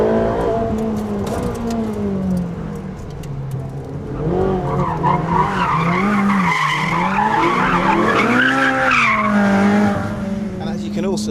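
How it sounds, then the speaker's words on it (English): A Ferrari 458 Speciale brakes hard on a track, tires squealing and skidding in wavering, loud tones while the engine note dips, lasting several seconds; a voice talks over parts of it. "I don't think I've driven a road car that stops as well as this one does."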